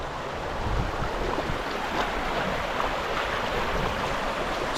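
Fast-moving floodwater pouring over an asphalt road on the Lost Coast, a continuous close rushing and gurgling wash with light wind buffeting.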